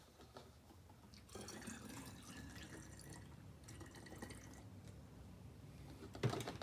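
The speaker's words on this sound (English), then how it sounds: "I'm going to put about here with distilled white vinegar" Distilled white vinegar trickles and splashes faintly into fermented pepper mash in a quiet, steady pour, with a few drips and a brief louder clatter at the end.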